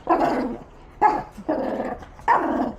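A dog barks and growls in four rough bursts, close and loud, each lasting about half a second with short gaps between.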